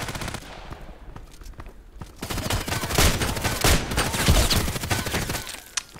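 Rapid, loud gunfire from an IZH-43 shotgun in the online shooter Contract Wars, with dense repeated blasts from about two seconds on, backed by other weapons firing and the rattle of battle.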